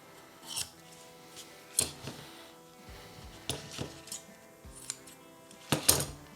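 Scissors cutting a piece of fiberglass mat for an epoxy plastic crack repair, giving several sharp, separate snips and crunches at irregular intervals, close and fairly quiet with no talking.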